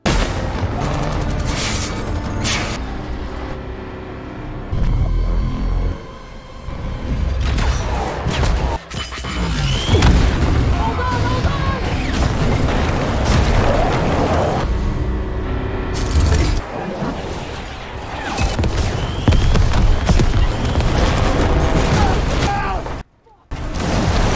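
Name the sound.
gunfire and explosions in a film, robot shooting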